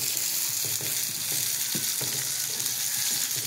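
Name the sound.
small onions sautéing in a pan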